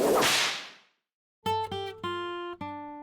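A stockman's whip cracks once, sharp and loud, with a hissing decay fading into silence, followed by plucked tonal musical notes.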